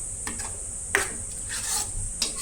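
A spoon stirs masala in a pan for paneer gravy, with a few scraping strokes and metallic taps against the pan over a faint background sizzle, close by and brief.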